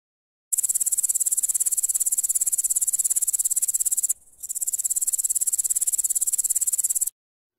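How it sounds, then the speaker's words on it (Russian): A grasshopper chirps in a steady, rapid, high-pitched buzzing trill that carries on for about seven seconds, with one short break partway through, heard alone and close with no voices. "Кузнечик."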